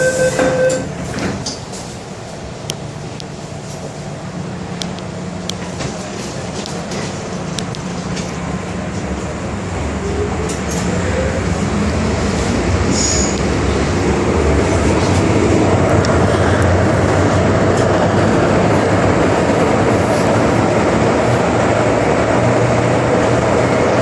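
An MTR Island Line train running between Shau Kei Wan and Chai Wan in Hong Kong, heard from inside as a loud continuous rumble and rail roar that builds as it gathers speed, with faint clicks and a brief tonal whine early on.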